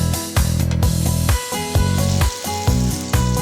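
Turmeric and salt fry in a pan for a Bengali labra of flat beans, potato and tomato, giving a close, steady sizzle that swells and dips in regular waves as the spices are stirred.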